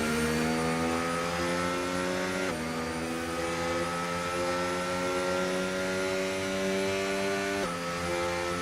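F1 25 race cars cross the finish line in a video game, their high-pitched engines whining in long rising tones that reset at each gear change, loud and continuous with no talk.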